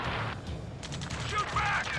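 Gunfire in Ace Combat 7 rattles in fast bursts over a constant noisy battle backdrop, with shouting voices heard alongside it.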